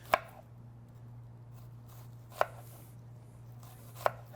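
Knife dicing an onion on a cutting board, three distinct sharp chops spaced out over a quiet background hum.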